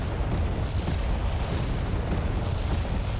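Artillery barrage in the video game Wargame Red Dragon, a dense continuous rumble of booming explosions, loud and broadband with no distinct gaps or voices.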